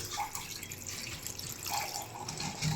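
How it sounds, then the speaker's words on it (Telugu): Water is poured into a pot of country chicken curry with spices, making a soft, quiet splashing trickle for a couple of seconds. "కొద్దిగా వాటర్ వేసి"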